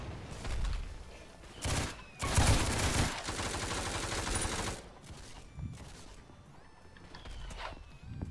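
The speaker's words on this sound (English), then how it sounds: "This light machine gun be like the best thing I think I've ever had in the entire game" Rapid light machine gun bursts in the Roblox game Ragdoll Universe, several loud sustained volleys of automatic fire with short gaps between them, alone without talk.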